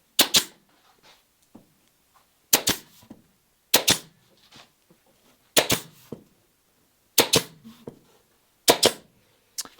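Pneumatic fastening gun driving fasteners into the garboard planks of a wooden Catalina Wherry boat, firing in sharp, loud bursts of two or three quick shots, repeated about every one and a half seconds, with faint handling noise between.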